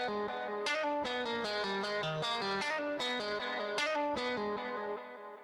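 Electric guitar, a Squier Bullet, playing a steady run of plucked notes, each trailed by soft repeating delay echoes, loud and close with no talking.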